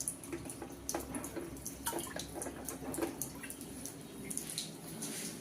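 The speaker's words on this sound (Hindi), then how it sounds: "एक्वागार्ड रु पानी लोड करेंगे" Water runs from an Aquaguard water purifier into a container in a home kitchen, a soft continuous trickle and splash with small irregular drips, close and fairly quiet.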